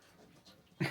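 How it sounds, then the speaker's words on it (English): A dog whimpers and pants close by in a brief burst, soft breathing at first and then a louder push of sound at the end. "And that's our dog Freya there trying to get involved in the vlog"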